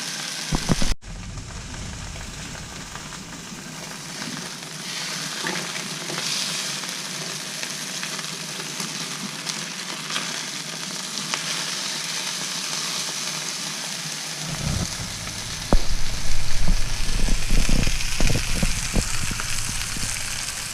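Steak searing in a hot frying pan with garlic, a loud, dense, continuous sizzle close by that swells into sharper crackling and spitting toward the end, with no voices.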